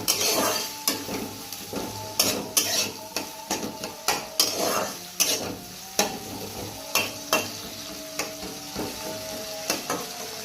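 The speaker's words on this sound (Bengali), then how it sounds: "তারপরে কাঁচা লঙ্কা কুচিটা দিয়ে দেবো হ্যাঁ ভালো করে এবারে ভেজে রাখবো" Chopped green chillies frying in a pan, stirred with repeated sharp metallic scrapes and knocks of a spatula in an irregular rhythm over a steady low sizzle, close and fairly loud, with no talking.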